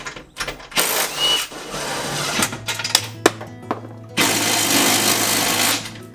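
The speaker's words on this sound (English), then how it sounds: "Now, I'm not tightening them all the way with the impact gun" An impact gun removes old bolts while a Rough Country tailgate reinforcement is installed on a Bronco. It makes two loud, sustained rattling bursts with shorter clicks and clunks between them.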